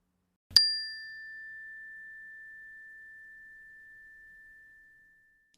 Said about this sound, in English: transitioning at the sound of the bell